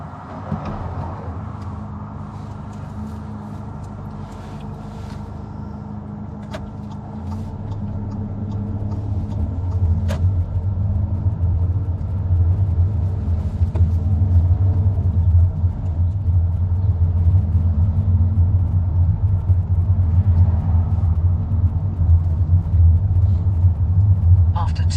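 A car pulls away on a driving test, its engine a steady low rumble inside the cabin that swells and grows louder as the vehicle gathers speed.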